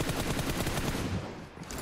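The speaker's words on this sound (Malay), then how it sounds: "tembakan jarak jauh dilepaskan oleh Lynx" Long-range gunfire in a PUBG Mobile esports match, a dense, continuous burst of rapid shots filling the whole stretch at steady loudness with no talk.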